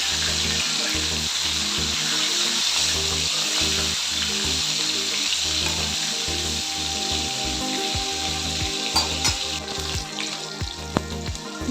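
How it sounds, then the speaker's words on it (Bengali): Fish fried in hot oil until red give a steady, dense sizzle and crackle, with a few sharper pops and scrapes near the end, no talking. "মাছগুলোকে যেমন করে লাল করে ভেজে তুলে নেবো।"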